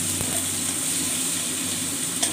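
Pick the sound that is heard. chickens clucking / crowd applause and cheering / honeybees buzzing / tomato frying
tomato frying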